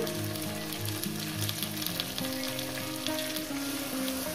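Ground spice paste hits hot oil in a pan for a young carp curry with mustard, poppy seed and tender okra, giving a steady, close, continuous frying sizzle with a faint tonal hum underneath.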